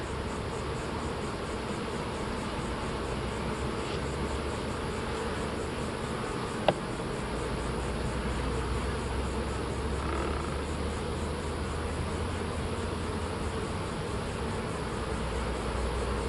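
Honey bees buzz densely around an open hive being moved from a three-story nuc into a ten-frame box, a steady close swarm drone that never lets up, with one brief click and no voices.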